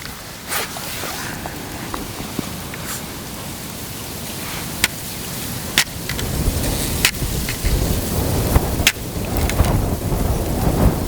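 Sharp, irregular cracks and thuds of an ice pick striking ice while winter fishing, several blows spread over a steady noisy background of shuffling and water.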